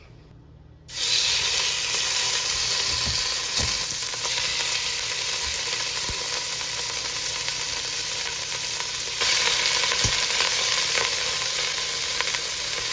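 Beef pieces dropped into a hot pot for stew burst into a loud, dense sizzle after a brief quiet start, hissing steadily throughout with a few faint clinks and scrapes, no talking.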